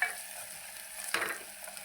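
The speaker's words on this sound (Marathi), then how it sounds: "त्यामध्ये घालायची थोडीशी कोथिंबीर पण छान तेलामध्ये परतून घ्यायची" Chopped coriander sautéed in hot oil in a home kitchen, with a steady soft sizzle and one louder stirring scrape about midway; no voices.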